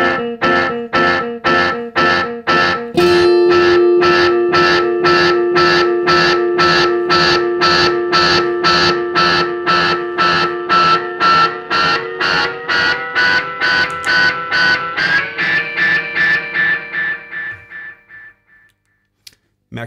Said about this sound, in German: Und wenn ich das ganz auf Anschlag drehe, habe ich da ein ewiges Echo